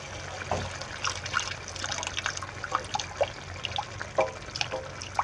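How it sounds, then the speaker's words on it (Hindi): Water trickles and splashes into a pan of tomato masala while mutton pulao is being cooked, with soft bubbling and light stirring clinks at moderate volume and no voices. "गोश्त बॉईल करते हुए थोड़ा सा पानी जो मैंने रख दिया था वो भी मैं इसमें अभी थोड़ा सा शामिल कर दूँगी"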